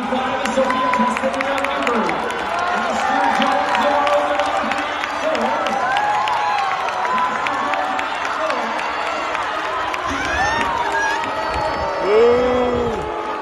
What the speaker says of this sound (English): In 200-meter final, jeering and booing could be heard in the background as Gallagher crossed the finish line.